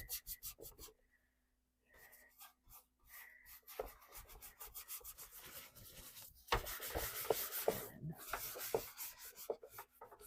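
Wax being rubbed onto a wooden thrift store decor piece: close, soft scrubbing strokes in short bursts, a brief pause near the start, then denser, louder rubbing.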